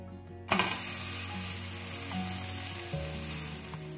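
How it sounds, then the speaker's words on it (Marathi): Ragi (finger millet) dosa sizzling steadily in a little oil on a hot pan, a sudden burst of frying at the flip followed by continuous loud crackle with faint scraping clicks, no talk. "आता यावर आपल्याला थोडस तेल टाकायचं, एकदम थोडस, आणि याला पलटी करून घ्यायचं आहे."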